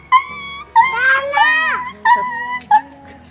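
A child imitates a dog, giving several short, high, yelping barks and a drawn-out whining howl at close range, with bursts separated by brief pauses.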